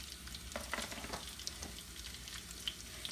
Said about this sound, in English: So we're going to start off by sauteing us some onions. You can hear it sizzling down in the pan.